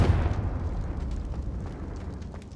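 Confringo blasting spell bursting in Hogwarts Legacy, a single loud boom at the start that decays into a long rumbling tail with scattered crackling debris.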